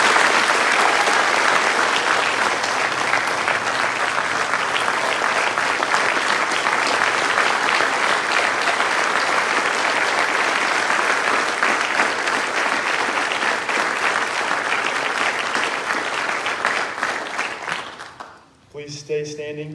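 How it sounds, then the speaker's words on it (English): A large audience gives graduates a final round of applause at an Air Force ROTC commissioning ceremony, a dense, steady wash of clapping that holds loud for most of the stretch before tapering off near the end. "Please join me in giving one final round of applause for our graduates."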